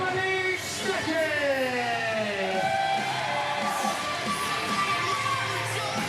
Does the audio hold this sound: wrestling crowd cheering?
yes